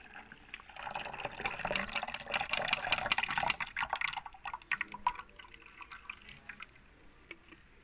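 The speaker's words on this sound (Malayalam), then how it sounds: "ഇനി നമുക്കിതൊന്ന് നല്ലോണം അരിച്ച് ഒരു പാത്രത്തിലേക്ക് മാറ്റാം" Lime juice drink, a fresh lime blended with cold water and lime peel, is strained and poured into a vessel, giving a soft, steady liquid trickle and pour with small drips that tapers off toward the end.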